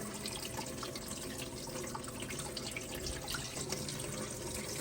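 Water runs steadily through a modified blue bowl gold concentrator processing pay dirt, a continuous splashing, bubbling flow like a running tap, even and close with no voices.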